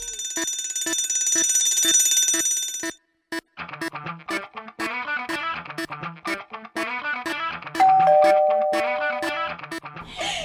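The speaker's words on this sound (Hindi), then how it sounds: "बजा के उनके घर की घंटी" An electronic doorbell at a house in the early morning rings in bright repeated chimes, first a sustained tone, then after a brief gap a rapid run of chiming notes with a held tone near the end, loud and close.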